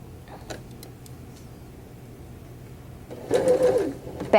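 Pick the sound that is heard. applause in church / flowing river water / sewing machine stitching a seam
sewing machine stitching a seam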